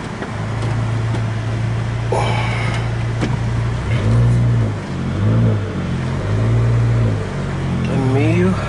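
Fiat 500 Abarth with a 1.4-litre turbo 16V four-cylinder engine revving in repeated rises and falls, loud and close, with someone talking between revs.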